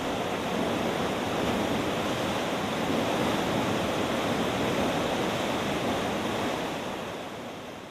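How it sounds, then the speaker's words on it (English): Loud, steady roar of water rushing through an Erie Canal lock, a continuous broad wash of sound that stays constant before easing slightly at the end. "The rush of water is thrilling to see and hear."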